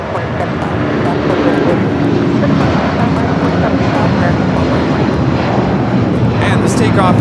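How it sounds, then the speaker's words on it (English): A United Airlines Boeing 757-200 jet takes off at LAX with a sustained, heavy engine roar that holds steady throughout, while voices murmur faintly beneath it. "this takeoff is United Airlines 2127 taking off to Newark on the 757-200"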